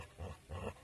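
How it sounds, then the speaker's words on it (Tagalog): A dog gives two short, low growling grunts in quick succession, close and moderately loud, followed by the start of a sharper bark at the very end. "sumasagot yung aso ko, nagagalit"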